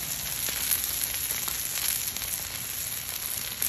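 Chuck steak searing in a hot pan, a loud, dense, continuous sizzle and crackle close up, with no talking.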